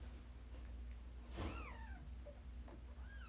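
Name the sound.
five-day-old kitten meowing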